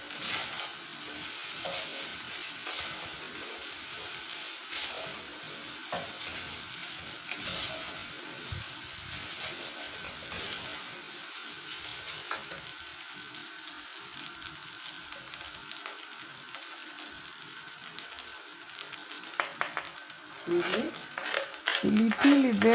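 Spiced beef samosa filling frying on a high flame while being stirred, a soft steady sizzle with repeated scraping strokes, growing louder clatter near the end.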